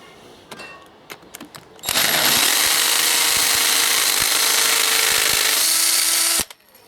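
A power drill bores into a concrete block wall in one loud, continuous grinding run of about four and a half seconds, with light clicks and handling before and after.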